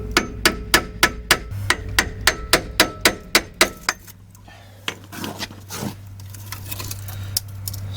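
A hammer taps a rusted brake caliper on a 1999-or-newer Chevy truck: a quick even run of about fifteen sharp metallic strikes, then a pause and a few scattered, softer knocks over a steady hum.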